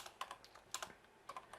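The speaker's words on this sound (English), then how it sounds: "I'm going and typing in visible" A computer keyboard clicks in quick irregular clusters of keystrokes, close and fairly quiet, with short pauses between bursts and no talking.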